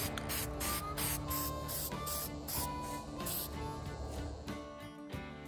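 Hi-Temp satin black spray paint going onto a steel smoker exhaust stack on a Masterbuilt 40-inch digital charcoal smoker: a series of short aerosol hisses with brief pauses, faint and close.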